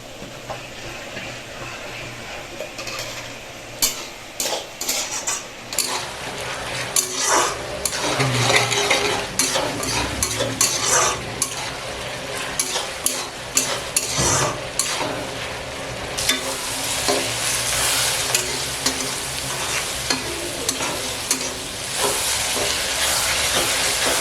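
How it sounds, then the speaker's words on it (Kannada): Rice cooking in milk for Bihari-style chawal kheer, stirred in a pot with repeated close scrapes and knocks of a spoon over a steady bubbling hiss that grows fuller toward the end. "ಹಾಲಲ್ಲೇ ಅಕ್ಕಿ ಹಾಕಿದ್ದೀನಿ ನೀಟಾಗಿ. ತಿರುಗಿಸ್ತಾ ಇರ್ಬೇಕಷ್ಟೇ ಅವಾಗವಾಗ."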